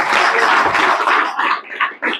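Hands clap in a dense burst of applause that thins out into a few scattered claps, fairly loud and close, with no voices.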